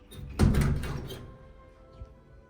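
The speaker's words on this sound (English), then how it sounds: "I'm opening the front door." A front door swings open in a home's entryway, a single loud thunk with a rattling swing that decays over about a second, followed by a faint later knock in a quiet space.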